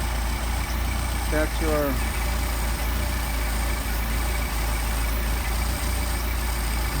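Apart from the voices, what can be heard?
engine idling with Solex carburetors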